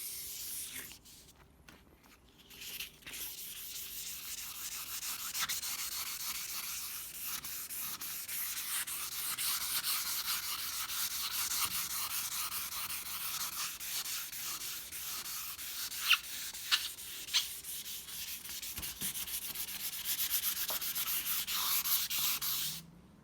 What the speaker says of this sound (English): once I'm using the sandpaper, it's definitely taking the top